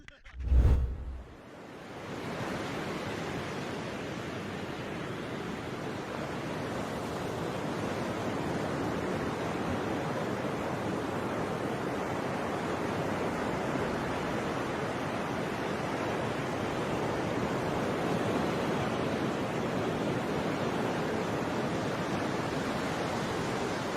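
Ocean waves surge in a steady, broad roar of churning surf that holds for the whole stretch, after a short thump at the start, with no voices.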